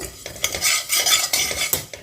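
Cumin seeds roasting in a hot, thick kadhai, giving a close, dry rattling sizzle with repeated scraping and stirring strokes against the metal, steady through the whole stretch.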